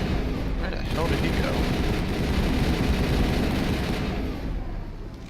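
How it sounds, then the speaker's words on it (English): Background gunfire in the video game Mass Effect on the Citadel, a continuous rattle of fairly distant automatic shots that swells and then fades toward the end. "you hear gunshots out here and not one person's panicking"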